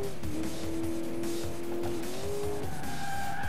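Car engine revving with loud tire squeals while skidding and drifting in the German racing video game Alarm für Cobra 11 Highway Nights; a steady, sustained screech with shifting pitch over continuous engine noise.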